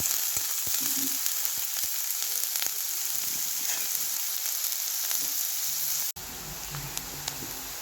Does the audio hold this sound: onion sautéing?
yes